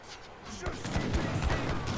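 Massed musket volleys from Age of Empires III units, including war dance infantry, crackle in dense overlapping bursts over a continuous battle din, loud and sustained beneath a commentator's voice.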